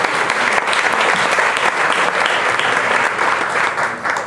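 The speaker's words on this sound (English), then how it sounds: "Please clap again." Audience at a Midwest policy event applauding steadily, a dense, even clapping that fills the whole stretch without pause, no talk.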